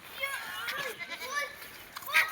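A goat bleats among village chatter and children's voices during livestock vaccination, with several short bleats scattered through the background.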